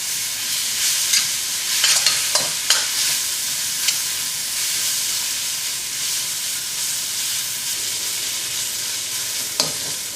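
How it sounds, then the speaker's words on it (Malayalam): Ginger and garlic fry in hot oil for biryani, a steady loud sizzle with scraping stirring strokes of a spatula at irregular intervals, close and continuous. "ഇഞ്ചി വെളുത്തുള്ളി നന്നായിട്ട് മൊരിയുന്നത് വരെ നമുക്കൊന്ന്"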